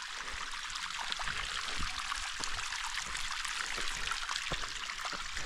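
Water trickles and streams steadily down the rocks of a small desert waterfall, a close, continuous watery rush with little splashes and drips, with no talking.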